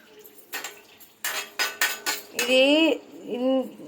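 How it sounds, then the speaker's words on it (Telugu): A spatula clatters and scrapes against a pan as spinach is stirred while frying in oil for a roti pachadi, giving a run of sharp metallic knocks followed by squeaky scraping strokes. "పాలకు ఇంకా ఫ్రై కావాలి, ఇంకా కొంచెం వేయించాలి."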